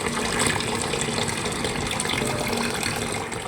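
Rice grains are rubbed and washed by hand in water, giving a steady sloshing, gritty wash of water that stays loud and close throughout, with no talking.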